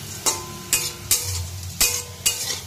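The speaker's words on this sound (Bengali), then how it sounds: "আলু ভাজাটা হয়ে গেছে।" Potatoes frying in a pan, with five sharp scrapes of a utensil stirring against the metal over a low steady sizzle, close and clear with no talk.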